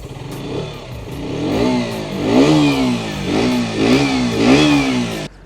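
A KTM RC 125 with an underbelly exhaust revs up close and loud, the engine climbing and falling in several repeated throttle blips before cutting off.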